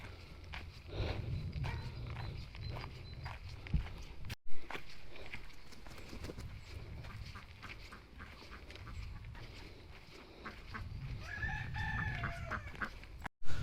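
A cockerel crows out in open countryside along a walking trail, heard over steady outdoor ambience with footsteps and faint rustling, the crow rising clearly near the end.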